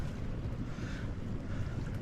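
Strong gusting wind batters a tent pitched in the Welsh mountains, a constant loud roaring buffet with heavy low-end rumble and no let-up across the short stretch.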